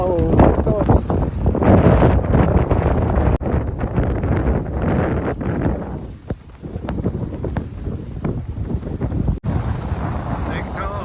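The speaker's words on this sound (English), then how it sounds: "Howling winds and blowing snow." Gusts of wind howl through a snowstorm at Nevada Beach on Lake Tahoe, buffeting the microphone in loud, rough roars that swell and ease, with a few sudden cut-offs.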